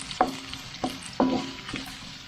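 Aromatics stirred in a hot pan for a buro dish: a soft background sizzle broken by four distinct spatula scrapes at uneven intervals, close up with no talk.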